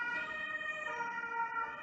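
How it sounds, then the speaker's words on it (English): Emergency siren passing by outdoors, a steady wailing tone with bright harmonics, moderately loud and slightly distant, sounding alone for a couple of seconds. "I've got a siren going by."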